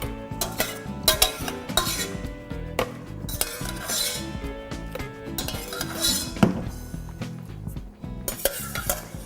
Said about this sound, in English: Now that my blender is clean and my carrots are cooked, I'm just going to spoon them in to my blender.